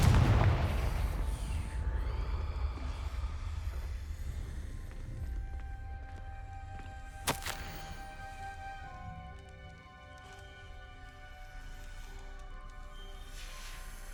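Confringo blasting-curse explosions in Hogwarts Legacy on PS5: a loud booming blast at the start, then a sharp crack midway, with ringing magical tones and rumbling debris trailing off.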